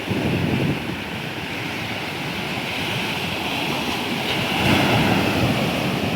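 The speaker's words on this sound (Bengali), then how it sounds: "এখন ভরা জোয়ার চলছে একদম।" Ocean waves at high tide on Puri beach roar steadily as broad continuous surf with wind across the microphone, swelling slightly near the end, loud and with no voices.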